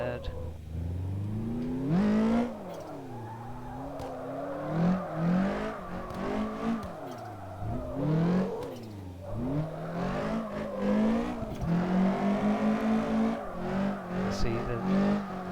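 A car in the CarX drifting game, driven with a wheel, revs hard through a long run of slides, its engine note rising and falling repeatedly with tire noise. A voice talks over it at times.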